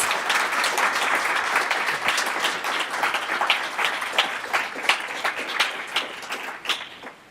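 Conference audience applauding the sponsors at a library technology event, a full room of clapping that holds steady, then thins into scattered individual claps before dying out.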